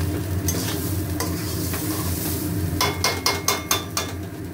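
Rice grains fried and stirred in a hot pan, a continuous sizzle broken by sharp metallic scrapes and knocks of a spoon, clustering into several quick strikes toward the end.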